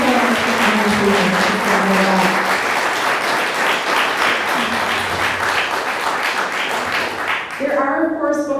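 Sustained loud applause from a crowd at a book talk, steady throughout, with some voices and cheers mixed in toward the end.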